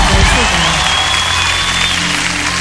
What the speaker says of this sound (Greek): Δώστε ένα χειροκρότημα